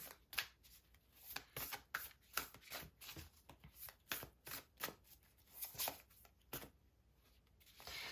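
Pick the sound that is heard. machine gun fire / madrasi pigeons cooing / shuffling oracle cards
shuffling oracle cards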